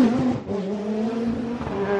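A race car engine at the Pikes Peak hill climb drones steadily at close range, its pitch holding fairly level with a slight dip and rise, loud throughout.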